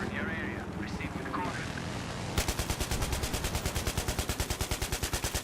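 Rapid, evenly spaced bursts of machine gun fire in a Battlefield 3 battle ring out loud and close for the last few seconds, following a stretch of mixed battlefield noise with game voices and radio chatter.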